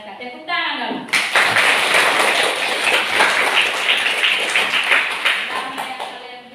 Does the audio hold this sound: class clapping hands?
yes